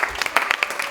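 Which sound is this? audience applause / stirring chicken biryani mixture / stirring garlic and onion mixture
audience applause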